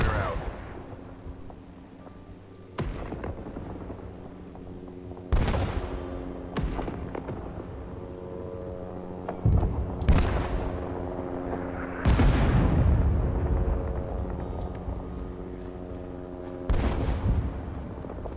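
Heavy artillery fire-mission shells land in Rising Storm 2 on the An Lao Valley map, with about six deep booming impacts spaced irregularly over a rumbling battlefield background.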